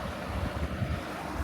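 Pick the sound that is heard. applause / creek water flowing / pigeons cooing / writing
creek water flowing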